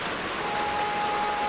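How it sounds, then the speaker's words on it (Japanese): Steady rain falling on a wet day, a continuous close hiss of drops hitting surfaces with no voices. "雨だね、今日はね。"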